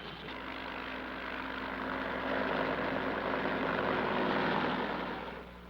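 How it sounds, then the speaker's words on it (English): Steady, droning rotor and engine noise of military helicopters in flight carrying troops and artillery near Khe Sanh during the Vietnam War, swelling slightly louder midway and then easing off at the end. "Fleets of helicopters lift men and artillery into the hills surrounding the base."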